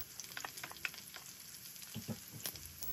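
Beef (toolo, cured lamb) fries in a pan before garlic goes in, a quiet crackling sizzle with scattered spits and pops and a few soft utensil knocks; no voices.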